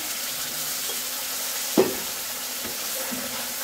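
Wet masala paste frying with browned onions for a masala egg curry, a steady close sizzle with one sharp spoon knock against the pan partway through, no talking.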